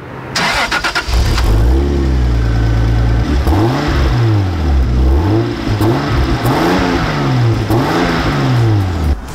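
A stock Toyota Supra engine revs loudly and up close, its pitch climbing and falling through several rising and dropping sweeps after an initial burst, with no talking.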